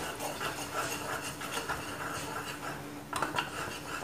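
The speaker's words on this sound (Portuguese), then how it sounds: "a gente vai mexendo ele até chegar em ponto de brigadeiro, até ele soltar da panela" Brigadeiro mixture being stirred in a pan, a utensil scraping and clinking against the metal in a soft, continuous rhythm with a brief louder clatter near the end, and no talk.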